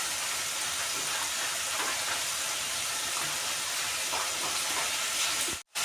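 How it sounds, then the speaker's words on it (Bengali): Chopped tomato and salt hitting hot oil, a loud dense sizzle that holds steady and close for several seconds, then cuts off abruptly near the end, with no voices over it. "টমেটো কুচি দিয়ে দেবো আর নুন দেবো স্বাদ মতন"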